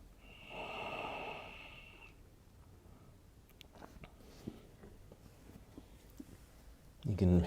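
Slow, deep breaths in a yoga child's pose, a long soft exhale early on followed by quieter breathing and small rustles, close and faint.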